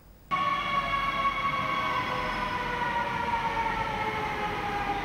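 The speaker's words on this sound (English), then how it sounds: "Deep under the streets of Sandton, another trainload of passengers arrive on the Gau train from OR Tambo, South Africa's largest airport." A Gautrain passenger train runs in an underground tunnel beneath Sandton, South Africa, starting abruptly into a loud, sustained metallic whine with layered tonal hum and steady rumble, no speech.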